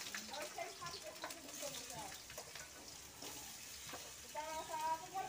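Pieces of potato and radish fry in leftover oil in a wok, a moderate crackling sizzle with some watery hiss and faint stirring noises, rising a little toward the end.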